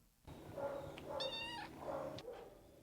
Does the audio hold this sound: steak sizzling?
no